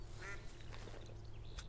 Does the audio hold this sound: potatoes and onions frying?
no